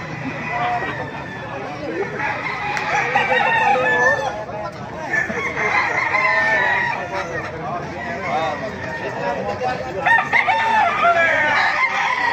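Several roosters crow and hens cluck at a crowded poultry market in Baliuag, loud, overlapping calls rising over a steady murmur of voices and nearby talk.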